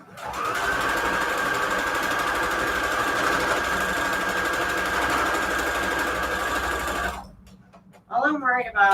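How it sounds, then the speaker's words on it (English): A sewing machine stitches fabric scraps together for patchwork junk journal covers, a loud continuous close-up whirring hum for about seven seconds that stops abruptly, followed by a brief clatter. "We'll sew it right here."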